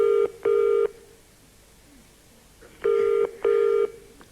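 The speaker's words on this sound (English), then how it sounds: "There we go, it's ringing out." A telephone rings out with two pairs of electronic ring bursts separated by a pause of quiet line hiss. The rings are clear and moderately loud, with no talking over them.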